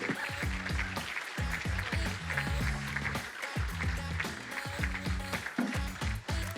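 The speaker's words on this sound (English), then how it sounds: "So we're going to applaud our judges out while they do some difficult deliberationing." An audience at a grand final event applauds as the judges leave the stage; steady, moderately faint clapping from many hands is mixed with a repeating musical beat playing underneath.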